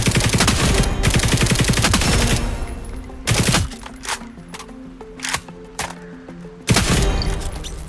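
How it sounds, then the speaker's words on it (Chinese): Sustained rapid automatic gunfire, close and loud, in the mobile shooter Operation Apocalypse as a robot is shot. After a long continuous burst, shorter volleys and single cracks follow. "开火，消灭这个机器人。"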